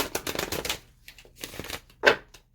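Small tarot cards being shuffled by hand, a few quick riffling and sliding rustles followed by a sharper single snap, close and fairly quiet.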